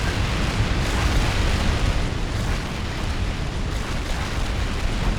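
Nuke explosion in the Minecraft Flans Guns modpack, a dense, loud continuous roaring rumble filling the whole stretch with steady, unrelenting broadband noise and no talk.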